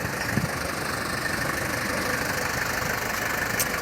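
A 2001 SsangYong New Korando 230SL manual diesel SUV idles close by, a continuous rough rumble with even knocking and no talking over it.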